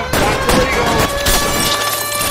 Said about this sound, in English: Shooting at me, not a great idea!